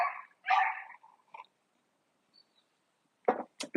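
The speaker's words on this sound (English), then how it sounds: "The dogs, neighbor dogs, are visiting with my dog." Neighbor dogs barking outdoors in warm weather, a few sharp barks up front, then a long quiet gap before two more quick yaps near the end, fairly close and alone.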